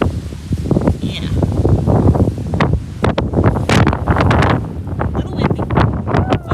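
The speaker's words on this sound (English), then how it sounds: "Little windy." Wind buffets the microphone in a steady rumbling roar with gusty surges throughout, drowning out other sounds.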